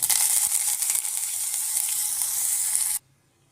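Curry leaves hit hot oil for tempering, giving a loud, bright, continuous sizzle that cuts off abruptly into near silence just before the end.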